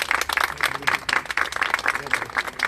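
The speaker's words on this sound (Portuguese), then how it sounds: "Palmas pro Mahesh." An audience applauds Mahesh, a Hare Krishna priest and singer, at a public gathering against antisemitism and discrimination: a steady, moderately loud patter of many hands clapping for a few seconds, with faint voices mixed in.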